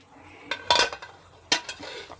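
A metal lid clanks onto a cooking pot of sinigang fish soup with miso, two distinct clattering hits about a second apart with lighter metallic rattles between, close and loud in a quiet kitchen.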